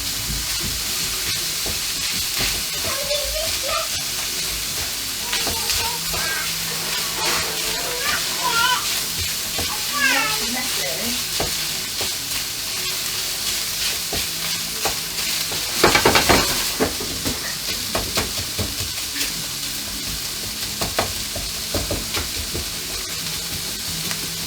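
A rice stir fry with chickpeas is mixed and fried in a pan with a spatula, giving a steady close sizzle with scraping, stirring clatter and a louder burst partway through, with a voice heard over it in places.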